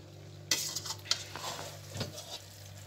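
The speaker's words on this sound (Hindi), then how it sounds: "अब इसको अच्छे से मिक्स करके फिर हम सर्व करेंगे इसको" A spoon or ladle stirs and mixes cooked biryani in a pot, making a few brief scraping and clattering strokes at close range. The sounds are quiet and separated by pauses, with no talking.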